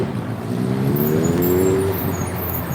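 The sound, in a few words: loud motorcycle passing by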